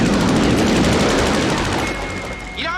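Dense, continuous machine gun burst from a MiG fighter jet in an air combat film scene, loud and close, a rapid rattle over a roaring jet engine that tapers slightly before a whining tone cuts in at the end.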